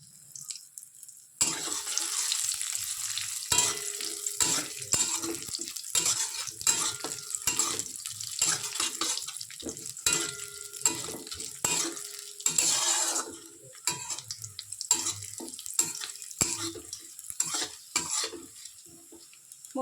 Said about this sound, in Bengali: কাজু বাদাম কিশমিশটা ভেজে নেব।